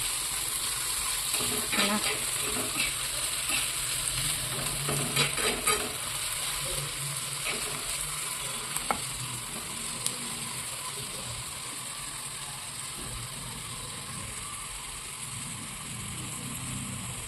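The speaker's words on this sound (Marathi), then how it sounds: "तर कांदे आणि टोमेटो अच्छे से मिक्स कर लेती हूँ" Onions and tomatoes are stirred in a hot pan for spicy egg bhurji, with soft sizzling and scraping stirs that are busier early and settle into a quieter, steady fry.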